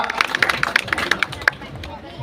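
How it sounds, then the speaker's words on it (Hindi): An audience at a village public rally in Khaira claps, scattered sharp hand claps ringing out irregularly over background crowd chatter and a nearby voice, thinning toward the end. "भाई जोरदार तालियां बजाए"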